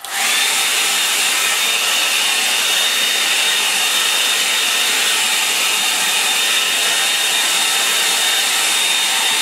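A hair dryer blows on a painting, a loud, close, steady whooshing roar with a constant whine that runs unbroken the whole time, no talking.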